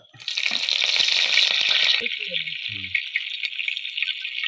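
Fenugreek seeds and curry leaves sizzling in hot oil, a loud steady frying hiss that bursts up as the leaves hit the pan and keeps crackling throughout, with a brief voice partway through.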